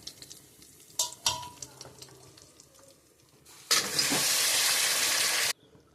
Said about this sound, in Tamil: இப்போ நம்ம சிக்கன் சேர்த்துக்கிறேன்.